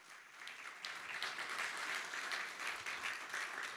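A room of people applauds at an association meeting, steady dense clapping held at a moderate, fairly distant level throughout with no speech over it.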